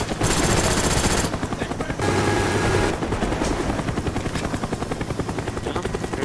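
A care package helicopter arrives in a first-person shooter video game, its rotor thumping steadily and loudly while bursts of gunfire crackle around it and a game announcer voice speaks briefly.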